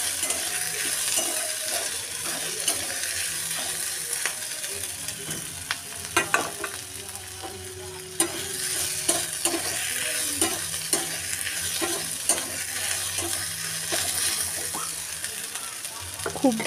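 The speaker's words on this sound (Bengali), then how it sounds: "এখানে আমি মশলাটা আগে কষিয়ে নিচ্ছি, আদা রসুন পেঁয়াজ ভালো করে এখানে কাঁচা গন্ধটা যতক্ষণ থাকে ততক্ষণ ভেজে নিতে হয়" A ginger, garlic and onion spice paste fries in oil while a spatula scrapes and clinks against the pan at irregular intervals over a constant sizzle, recorded close up.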